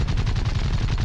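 Rapid continuous aircraft machine gun fire from a fighter plane in the War Thunder combat flight game, a dense, loud burst of overlapping shots filling the whole moment without pause.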